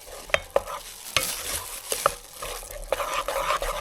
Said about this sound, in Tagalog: haluin lang natin mabuti. Tapos, lagyan natin ng, after that, lagyan din natin ng melted butter.